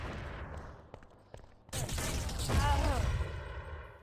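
Grenade blasts in the online shooter Urban Terror during a World Cup match: a few scattered thuds early, then a loud broad burst mid-clip with rumbling aftermath, while a commentator talks over it.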